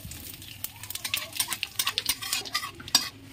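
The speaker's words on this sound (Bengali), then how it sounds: "তেলটা গরম হয়ে গেছে। এখন এই যে তেজপাতা, শুকনো লঙ্কা, জিরে নিয়েছি, এটা দিয়ে দেবো।" Bay leaf, dried red chilli and cumin crackle in hot oil while being stirred, giving a close, busy run of scraping and metallic clinks over a constant sizzle, with no voices.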